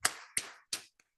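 A conference audience claps hands together in unison: three sharp, loud group claps in steady rhythm, then a faint fourth, with no talking.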